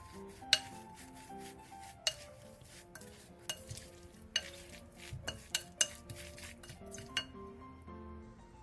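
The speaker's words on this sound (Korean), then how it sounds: "볼에 부추와 고추, 계란 1개, 부침가루 크기 3스푼, 소금 2분의 1티스푼, 물 3분의 1컵을 넣고 골고루 섞어 부추전 반죽을 만들어주세요" A utensil stirs chive and red chili pancake batter with an egg, frying mix, salt and water in a bowl, giving a run of light clinks and taps against the bowl over a soft wet churning, close and without talk.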